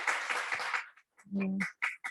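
Applause breaks out at a school board meeting: a short burst of dense clapping from the audience that cuts off quickly, followed by a voice speaking.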